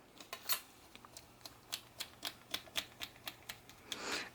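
A blade trims the rounded ends off a polymer clay spiral cane, producing a steady series of small, crisp clicks and taps at a close, quiet level with no speech.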